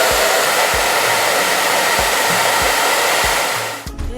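A hair dryer blows cold air on a sleek high braided ponytail, a loud, steady, close whooshing roar that holds for several seconds before dipping near the end, with no talking.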